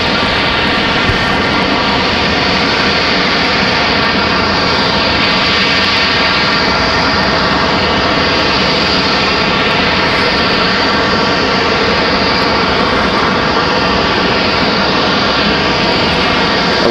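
Alaska Airlines jet airliner at Raleigh-Durham airport, a loud, steady, broadband engine roar that fills the whole stretch without letup, close by and unbroken.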